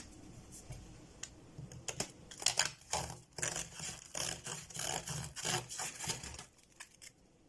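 A freshly sharpened serrated knife is tested with a series of quick, crisp cutting strokes, heard close up as soft, irregular ticks and scrapes.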